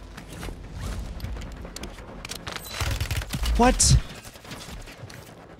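A burst of Glock pistol gunshots in Call of Duty Warzone on Rebirth Island, a rapid cluster of sharp cracks rising loud near the middle amid game noise, with a brief spoken exclamation.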